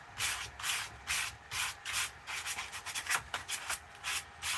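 80 grit sandpaper is rubbed by hand over a turned ash wood bowl in quick, rhythmic back-and-forth strokes, a soft, close, scratchy hiss repeating about twice per second.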